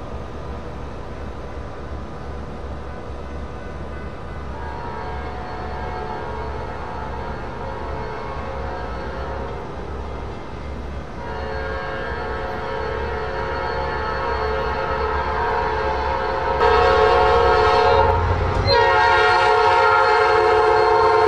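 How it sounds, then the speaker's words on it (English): Norfolk Southern NS-242 mixed freight train, carrying auto racks and intermodal loads, rumbles past loudly with a steady rail roar and a sustained horn blast that grows louder toward the end. "Here comes NS-242, Atlanta, Georgia to Charleston, South Carolina."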